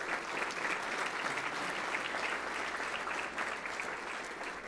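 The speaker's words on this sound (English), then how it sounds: "Let's give them a round of applause." Audience applause at a school board meeting honoring student performers, steady sustained clapping from a crowd in a hall for about five seconds, with no talk over it.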